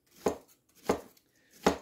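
A knife chops through food on a board at home, three sharp, evenly spaced cuts close by, each with a brief thud and a quick fading ring, and quiet between them.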